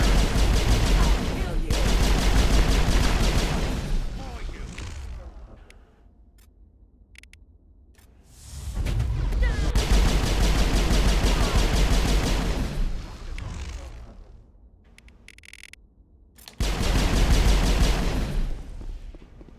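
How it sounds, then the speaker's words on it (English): Bursts of rapid automatic gunfire in the video game Mass Effect, three loud sustained volleys separated by quieter gaps with scattered shots. "Accurate sound effects, Jay. Yeah, that's not my favorite gun sound in the game."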